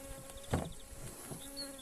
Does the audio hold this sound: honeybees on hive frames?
yes